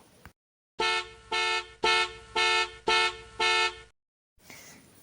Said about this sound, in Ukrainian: Так, звук машини. Бі-бі, бі-бі.